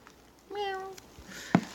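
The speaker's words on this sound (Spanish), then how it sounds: "Oh, tiene un gatito." A cat gives a single clear meow up close, rising and then falling, followed by a short sharp knock over a soft background hiss.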